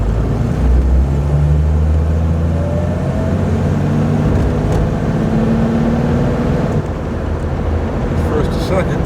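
Turbocharged slant-six Dodge Dart engine pulling hard and revving through gear shifts, a loud steady drone with rising tones that drop at each change, heard from inside the car with some traffic around.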